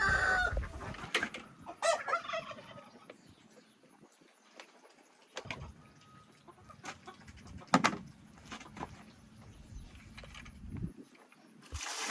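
Chickens cluck softly around a backyard coop, scattered calls and a faint crow over low ambient noise, with occasional louder knocks and bumps nearby.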